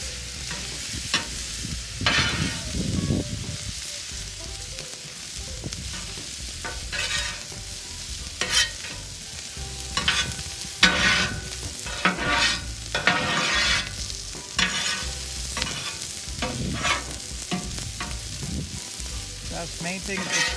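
Chicken and scallops sizzle with minced garlic and butter on a hot teppanyaki griddle, a steady loud frying hiss broken by repeated scraping and clattering strokes of a spatula stirring the food.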